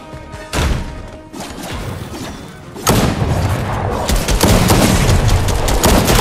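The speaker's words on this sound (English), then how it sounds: "I got shot from behind?" A gunshot rings out from behind in the video game Fortnite, a loud crashing blast followed by dense, sustained booming game action that swells louder after a few seconds.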